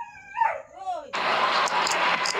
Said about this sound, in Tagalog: Nag-ingay yung alagang aso namin.